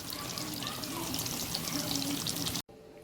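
Bell pepper frying in oil for Egyptian moussaka, giving a continuous crackling sizzle that fills the clip and then cuts off abruptly near the end, with a faint voice underneath.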